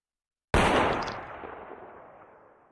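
A single loud gunshot from a video game firefight bursts out after a half-second of silence, then rings and decays slowly over two seconds with no talk over it.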